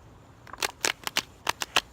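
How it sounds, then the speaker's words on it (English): Tarot cards are shuffled close by in a quick run of about eight crisp riffling bursts over two seconds, loud and clean with no talking. "Do one more shuffle."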